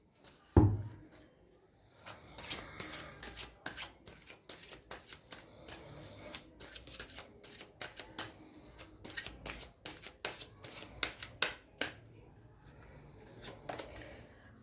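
Oracle cards being shuffled by hand, a long run of quick, soft riffling and flicking sounds at close range, with a few sharper snaps and a quiet voice now and then.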